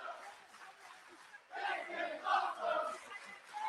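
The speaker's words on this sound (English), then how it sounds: "the crowd's really into this match" A wrestling crowd at a live match roars and cheers in a mid-distance swell that surges loudly after a quieter start, with shouts rising and falling through the noise.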